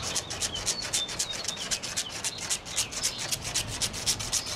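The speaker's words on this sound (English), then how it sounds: "Get this clayed off real quick." A clay bar rubs polyurethane spray foam overspray off a car's paint in steady, rhythmic back-and-forth strokes, close and evenly paced, with faint bird calls in the background.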